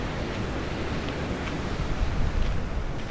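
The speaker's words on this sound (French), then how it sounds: "il y a des sacrées vagues et je vais me faire arroser" Large sea waves crash steadily onto the shore, a continuous loud roar of surf with gusty wind rushing across the microphone and no voices.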